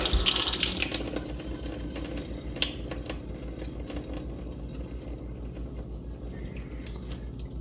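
Water runs steadily into the reservoir of a countertop ice maker while it is filled for a cleaning cycle; a close, continuous tap-like flow with small drips and splashes and no talking.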